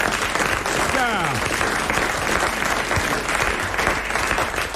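A studio audience on a 1990 French television show applauds steadily in a dense, continuous wash of clapping, with a faint voice briefly heard under it.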